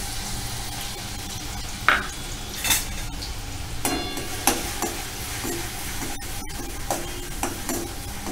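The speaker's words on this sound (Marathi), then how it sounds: "आलं लसूण पेस्ट चांगली तळून घेऊ कमी गॅसवरच तळायची आहे" Ginger garlic paste frying in oil in a wok over low heat, a soft steady sizzle broken by scattered clicks and clinks of a spoon stirring against the pan.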